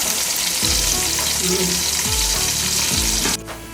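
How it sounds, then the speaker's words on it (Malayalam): Onions frying in a pan give a loud, continuous sizzle with a few scraping stirs against the pan, and the sizzle drops away sharply in the last moment. "സവാള പൊരിച്ച് വരികയാണ്."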